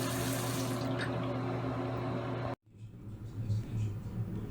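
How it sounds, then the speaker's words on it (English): Tap water runs steadily into a sink during hand washing, a loud close gush that cuts off abruptly when the faucet is shut, followed by quieter room sound and faint drips. "Be sure not to touch the faucet handles when turning off the sink."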